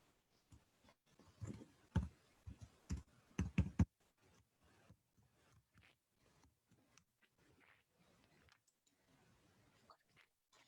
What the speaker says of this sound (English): just typing in my password